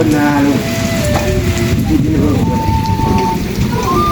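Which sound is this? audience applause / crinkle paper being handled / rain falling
rain falling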